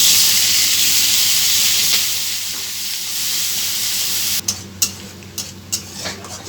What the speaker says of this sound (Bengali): বেটে রাখা পেঁয়াজটা দিয়ে দিয়েছি